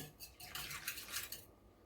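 A metal spoon stirs cooked dal with turmeric, asafoetida and chunks of tomato in a steel pot. It makes faint, close scraping and clinking in a short series of strokes, with no voices.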